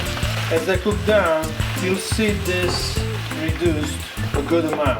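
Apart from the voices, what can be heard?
broccoli rabe sizzling as it cooks in a pan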